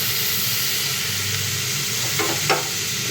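Beans, potatoes and tomatoes are stirred in a frying pan, giving a steady close sizzle with a couple of brief scraping strokes toward the end. No voices.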